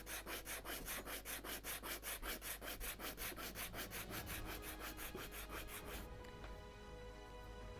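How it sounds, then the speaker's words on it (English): Steady back-and-forth rubbing of a sanding block on freshly cut wooden parts for a 1:76 Mayflower ship model kit, a close, rhythmic rasping stroke repeating for about six seconds before stopping, with no talk. "We have sanding blocks. I definitely have to sand these"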